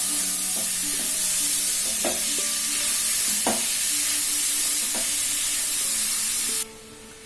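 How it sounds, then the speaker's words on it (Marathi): Grated beetroot with the other cutlet ingredients sizzling in a pan as they are stirred together, with steady frying hiss and several spaced spatula scrapes and knocks against the pan before the sizzle abruptly quietens near the end. "आता आपण या सर्व साहित्याला छान असं मिक्स करून घेणार आहोत।"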